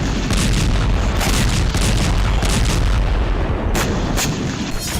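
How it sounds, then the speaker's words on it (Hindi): Missile strike explosions hit a residential area at night in news footage, heard as a dense, continuous roar of heavy booms and rumbling blasts, loud and unbroken throughout. "रात के वक्त रूस ने यहां ताबड़तोड़ मिसाइलें दागी।"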